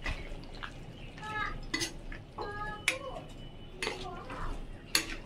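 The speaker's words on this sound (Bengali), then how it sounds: "দেখুন ভালো করে নাড়িয়ে নিয়েছি" Chana masala is stirred in a pan, giving a series of close metallic clinks and scrapes of a spoon against the pan at an irregular pace, with a low background hum.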